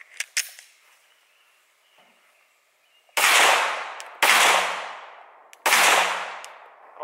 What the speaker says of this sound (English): now we're shooting the 115 grain Remington UMC.